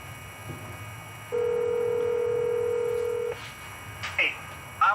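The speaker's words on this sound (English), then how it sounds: "Let's get Mike on the phone and let's talk about this." A telephone tone sounds while a call is being placed, a steady two-second beep followed by a few short dialing chirps, clear and close over faint background hiss.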